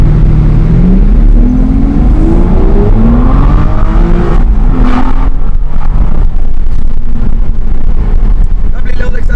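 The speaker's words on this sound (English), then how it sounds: "Lovely little acceleration" A car pulls out of a petrol station and accelerates, its engine revving up through rising tones under steady wind buffeting on the microphone.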